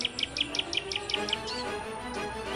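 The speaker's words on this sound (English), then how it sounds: "The Black-naped Oriole doesn't sing to end the day." A black-naped oriole sings a quick series of clear, whistled notes in a regular rhythm, then trails off into a soft outdoor hush on Bali.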